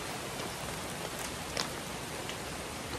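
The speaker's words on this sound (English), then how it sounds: "It's raining." Steady rain falls in the jungle along the Manoa Falls Trail on Oahu, Hawaii, a dense even hiss of drops on foliage with a few louder nearby drips, constant throughout with no talk.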